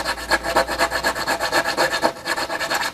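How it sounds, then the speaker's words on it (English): Close, rhythmic sanding strokes on a screw hole in a model discus-launch glider wing, about a dozen quick rasping back-and-forth rubs at an even pace, with no talking. "So I will have to keep sanding just a tiny bit more."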